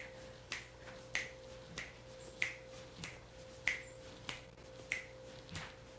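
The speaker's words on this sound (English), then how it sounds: "Maybe you want to snap your fingers a little bit." Finger snaps during a cardio dance workout, about nine crisp, evenly spaced clicks at a steady beat, close and clear over a quiet background hum.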